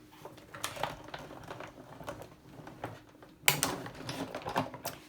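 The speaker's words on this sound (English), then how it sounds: "I'm just going to go ahead and run it through my die cut machine." A card and metal die are cranked through a manual die cut machine, giving a run of faint clicks and rattling mechanical taps with a sharper clack near the end, quiet and close.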